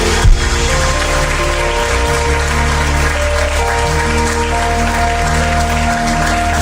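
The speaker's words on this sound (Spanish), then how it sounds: "vamos a darle un aplauso al Señor." Church congregation applauding together in a steady, loud wash of clapping that holds throughout, with a low rumble and sustained tones beneath it.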